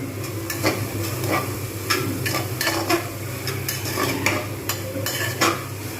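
A spoon scraping and knocking in a pan as turmeric and asafoetida are stirred for vegetarian matar dal, with light sizzling underneath; a steady run of close, irregular clinks and scrapes with no talking.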